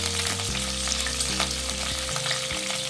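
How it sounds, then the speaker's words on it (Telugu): Cumin and mustard seeds crackle and splutter in hot oil for an upma, a dense, continuous sizzle over a low background hum, close and with no voices. "జీలకర్ర ఆవాలు ఇలా చిటపటలాడాలి."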